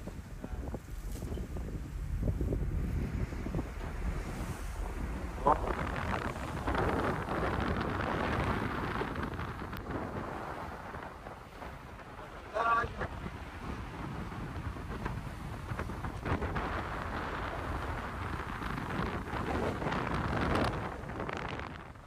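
Strong wind buffets the microphone out at sea during a rough-weather fishing trip, a steady broadband roar with gusty swells throughout and no talking.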